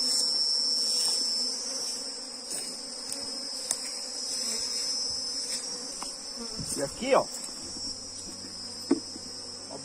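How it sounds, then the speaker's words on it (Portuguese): Honeybees buzzing around a wooden hive box outdoors, a steady insect hum that carries through the whole stretch, with a few brief handling knocks and a short spoken remark near the start. "observem que já tem bastante abelhas"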